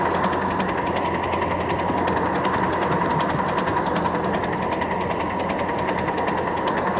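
A live steam miniature locomotive labours up a grade, its steady chuffing and mechanical clatter running continuously and fairly close for the whole stretch, with no talking.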